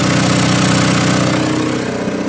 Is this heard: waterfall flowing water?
no